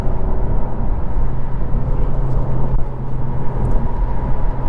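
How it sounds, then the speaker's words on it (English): A 2022 Honda Civic Si with a turbo engine accelerating in third gear, giving a steady, loud, close engine drone and rumble that holds throughout with no talking. "So I'm keeping it in third gear. I've got plenty of punch from the turbo motor."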